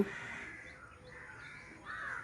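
A crow caws in a few drawn-out, harsh calls, fairly faint and somewhat distant against a quiet background, with no talk.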